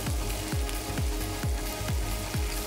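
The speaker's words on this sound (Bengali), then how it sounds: "এবার আমি ডালটা দিয়ে দিচ্ছি" Boiled lentils sizzle in a pan of frying whole and ground cumin, a dense continuous crackle with a low rhythmic thump about every half second underneath.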